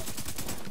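Gunfire in the co-op shooter video game Tom Clancy's The Division 2, a rapid burst of repeated shots with dense, rattling reports, heard alone with no talk.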